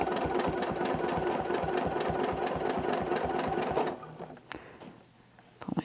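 A sewing machine quilting circles with rulers runs a steady, fast rhythmic stitching chatter for about four seconds, then stops, leaving a few quiet clicks and soft handling sounds.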